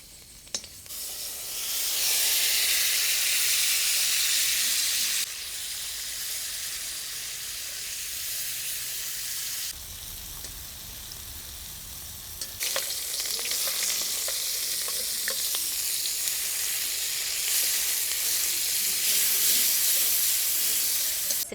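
Vegetables fry in a wok with a loud, continuous sizzle and steamy hiss, occasional stirring scrapes shifting the intensity, close and filling the kitchen without talking.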